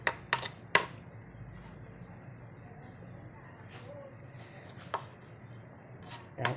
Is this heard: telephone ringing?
no